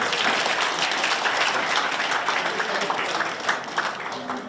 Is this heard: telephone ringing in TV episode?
no